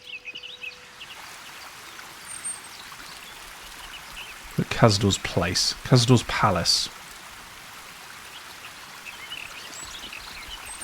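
A waterfall in the lower city of Baldur's Gate 3 gives off a soft, steady rushing hiss throughout, with someone speaking briefly over it midway.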